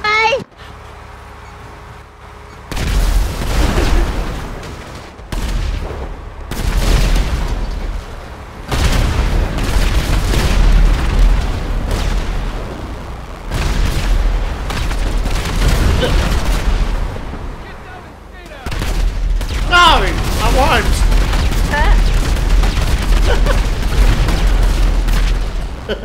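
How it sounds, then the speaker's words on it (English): Tanks exploding amid gunfire in Grand Theft Auto V: repeated loud booms and crackling shots in dense bursts, with voices talking over the chaos. "I destroyed another tank!"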